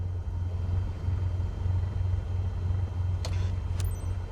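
Cessna 172 Skyhawk engine in Microsoft Flight Simulator 2024, a steady low droning hum at full power for takeoff, continuous and even, with two brief faint clicks near the end; no speech.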